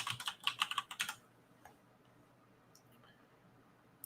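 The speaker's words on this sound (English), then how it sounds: "When I type in memories, it should come up." Quick, close keystrokes on a computer keyboard in a rapid burst of clicks lasting about a second, then near silence with a few faint taps.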